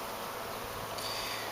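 A dense, steady buzz of many honeybees in a hive fills the clip, close and continuous without pause.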